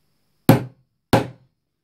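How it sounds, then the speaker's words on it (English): A hammer strikes a rivet being set into a leather belt: two sharp, loud, close knocks about half a second apart, each ringing briefly before silence. "You take your hammer, give it a few bangs."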